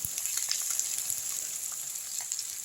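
Chopped onions sizzle steadily in hot oil in a pan, a close, continuous crackling hiss with small pops throughout, no voices.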